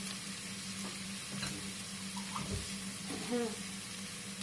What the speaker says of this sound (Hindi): थोड़ा सा मैं वाटर भी ऐड कर दूँ ताकि ये मसाला जो है अब जले नहीं।